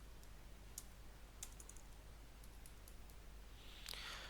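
Test code being typed on a computer keyboard, sparse, light key clicks spread out over a quiet background hiss, with no voices.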